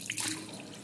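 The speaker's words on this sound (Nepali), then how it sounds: "पानीको फोर्स चाहिँ छ धेरै," Water gushing hard from a bathroom tap in a newly finished bathroom, a brief, close, steady splashing hiss with a few drip-like spatters.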